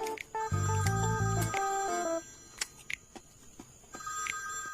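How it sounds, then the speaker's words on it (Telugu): A telephone rings in a tonal ringtone pattern for about two seconds, loud and close, then stops, leaving faint room noise with scattered small clicks and a brief later tone. "ఫోన్ మోగుతుంది, తీసుకురాపో."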